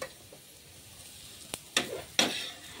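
Onion and masala roasting in a pan for an egg curry, a soft steady sizzle broken by a few sharp scraping stirs of a spatula, close and quiet.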